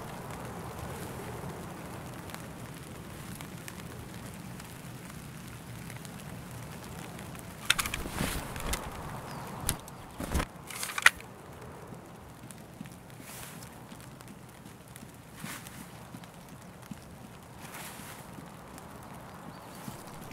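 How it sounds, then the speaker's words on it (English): Rustling, swishing footsteps through a bush in Escape From Tarkov, a steady low crunch with a few louder brushing bursts partway through; no talking. "run around in a bush to see the difference between that bush swiping noise"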